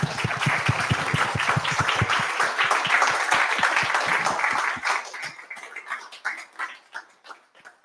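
Audience applause at the close of a talk at a Green Software Brighton event, dense and steady clapping from a crowd that thins out over the last few seconds into scattered, fading claps.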